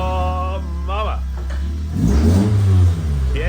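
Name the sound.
SR20 converted Datsun 200B engine revving while driving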